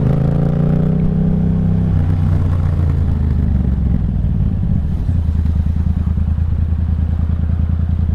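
A Yamaha FZ-07 motorcycle fitted with a loud aftermarket exhaust rumbles close up, its deep engine note shifting from a steady idle into a rapid, throbbing pulse with no talking.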